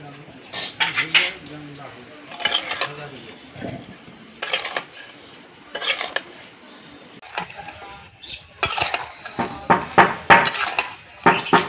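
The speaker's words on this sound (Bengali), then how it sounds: "এবার কড়াটা বসিয়ে দিচ্ছি" A metal kadai (wok) is set down on a kitchen stove while jelly aamgur (mango candy) is being made, giving a run of close, sharp metallic clanks and clinks in bursts, with some talk in between.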